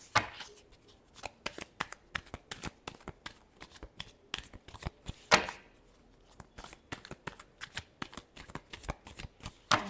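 Tarot cards being shuffled by hand, a dense stream of sharp riffling slaps and flicks in quick irregular rhythm, close and crisp with no talking over it.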